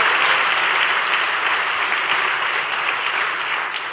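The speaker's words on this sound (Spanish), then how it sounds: "Podemos darle fuerte ese aplauso a Él." A church congregation claps loudly and steadily, a dense, sustained wash of applause from many hands that continues throughout.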